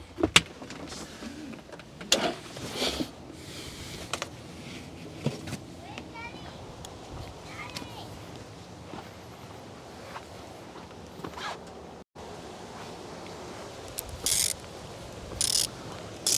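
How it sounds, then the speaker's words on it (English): Ratchet wrench clicking in short bursts while tightening a bolt on a 1995 Lexus SC300 that runs then dies, mixed with other mechanical handling noises and occasional talk nearby. "Tighten down that middle bolt."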